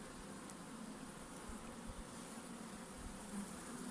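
Honeybees buzzing around a beehive in Antalya, a dense, steady hum of many insects close by, with occasional louder passes of individual bees and no voices.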